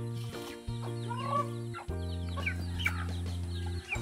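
Native chickens cluck and squawk close by, with several overlapping calls in quick bursts over a steady harmonic drone, loud and clear with no talking.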